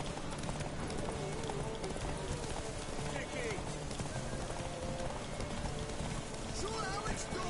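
Horse hooves clip-clop in a steady trotting rhythm in The Witcher 3 video game, moderately close and mixed with ambient game sound and faint in-game voices.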